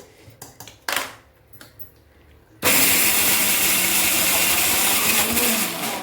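A few clicks and handling knocks of a mixer grinder, then its motor starts with a loud, steady, close whirring roar that runs continuously while it grinds a raw banana mixture.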